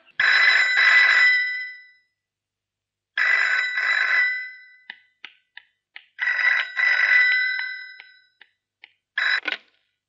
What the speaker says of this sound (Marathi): कोणाचा फोन आहे किरण?